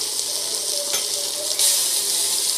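Mustard seeds in hot oil give off a continuous, bright sizzling hiss that stays fairly loud and steady, with a couple of slight surges.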